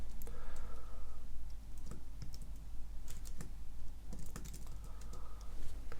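Typing on a computer keyboard while entering a Linux command, a close run of irregular key clicks and taps over a steady low hum, with short pauses between bursts.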